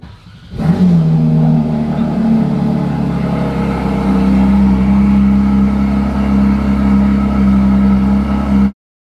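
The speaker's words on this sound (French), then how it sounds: "Je vais la démarrer." A Porsche 911 GT3 engine cranks and fires up, then settles into a loud, steady idle that rumbles continuously until cutting off abruptly at the end.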